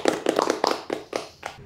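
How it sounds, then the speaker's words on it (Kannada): A small group claps on cue in an indoor gathering, producing several quick bursts of hand claps in an uneven rhythm with short gaps. The claps are moderately loud and close, and no one speaks over them. "ಹೊಡಿರಿ ಚಪ್ಪಾಳೆ"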